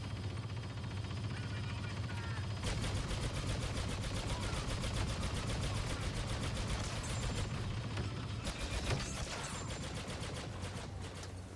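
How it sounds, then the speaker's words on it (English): Rapid machine gun fire in the Star Wars Battlefront 2 video game, a sustained burst of fast repeating shots lasting several seconds over a constant background hum, with louder crackling impacts near the end and a player talking throughout. "I'm going to machine gun"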